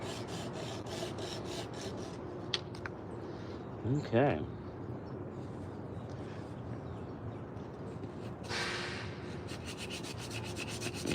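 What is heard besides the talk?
hand sanding a carved wooden spoon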